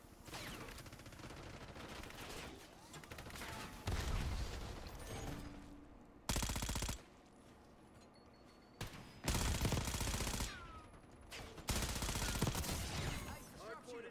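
Rapid gunfire bursts and shots from the video game Call of Duty Black Ops 6, with loud volleys interrupted by brief pauses, under quiet player talk.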